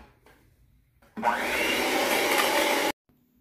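Muffin batter with milk and vanilla being mixed, likely by an electric mixer: a steady loud motor whir starts abruptly, runs for about two seconds without change, then cuts off sharply, with no voices over it.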